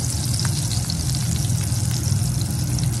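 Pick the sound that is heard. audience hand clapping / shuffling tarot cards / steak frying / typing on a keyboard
steak frying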